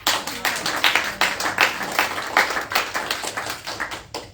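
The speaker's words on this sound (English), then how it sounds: "let's have a round of applause with that" Congregation at a New Thought Sunday service gives a round of applause, a close, loud, uneven run of hand claps pulsing steadily throughout with no talk over it.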